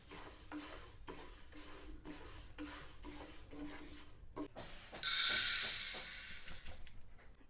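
Lentils rattle in a dry pan as a spoon scrapes and stirs them in quick, uneven strokes; a sudden louder hiss burst follows midway.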